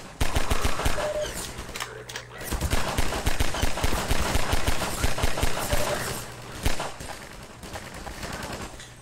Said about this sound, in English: Yes, I am aware that I just shot the wall.